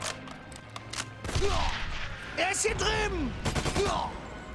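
Rapid bursts of gunfire from a weapon in the Enemy Front video game crackle in clusters, loud and close, with someone talking over part of the shooting.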